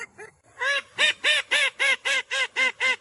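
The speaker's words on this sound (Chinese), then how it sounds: "把这只爱叫的科尔鸭和豆芽都拿出来了" A call duck, a small noisy breed, quacks loudly in a steady run of about eight evenly spaced, close calls following a brief quieter start.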